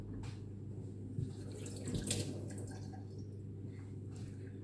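Kitchen tap running softly to wet hands while making gnocchi alla romana, a faint, quiet trickle and splash of water close by with a low hum underneath and no talking.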